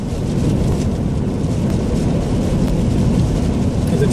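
Strong wind roars continuously, a heavy low rumble with buffeting gusts, no voices heard, during small hail-like snow in Neustadt (Marburg), Germany.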